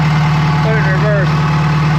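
A John Deere 450H dozer's engine idles with a steady, loud, low drone that holds evenly throughout, while faint voices murmur in the background.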